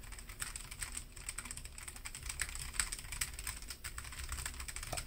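Rapid clicky typing on a Logitech G915 TKL keyboard, a dense stream of close, quiet keystrokes with uneven rhythm and no talking.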